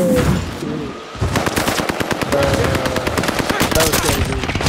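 Sustained bursts of automatic gunfire in the Call of Duty: Modern Warfare video game, loud and close, with rapid repeated shots running almost continuously and brief gaps between volleys.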